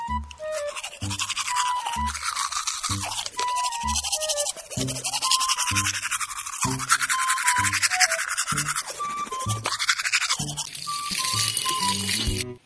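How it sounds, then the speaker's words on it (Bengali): Brushing teeth with a toothbrush just after waking, close and loud, with steady rapid scrubbing strokes throughout and brief pauses, alongside occasional tonal sounds and small splashes of water. "ফটাফট ব্রাশটা কমপ্লিট করে নিই"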